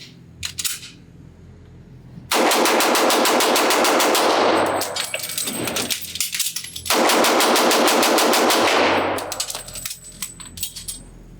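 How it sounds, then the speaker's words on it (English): A Walther PPQ .40 S&W pistol is fired as fast as possible to empty the magazine, producing two long bursts of rapid, loud, evenly spaced shots at an outdoor range, separated by a pause for the magazine change. "This is the quick magazine change test, and just do a mag dump as quickly as I can"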